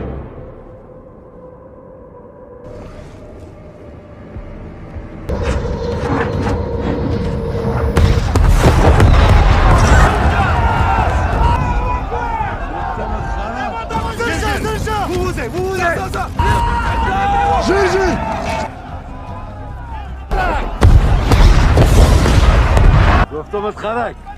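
Aerial bombs dropped from an aircraft explode in a war action film, with heavy booming blasts and crackling bursts building over the scene, loud and dense, with voices and radio chatter mixed underneath.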